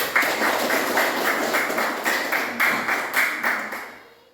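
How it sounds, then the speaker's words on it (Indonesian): A classroom of pupils claps hands together in a steady, rhythmic pattern of repeated bursts that fades out at the end, with no talking over it. "Beri tepuk tangan dulu untuk."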